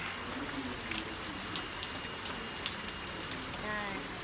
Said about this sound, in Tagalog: Pumila na yung ulan.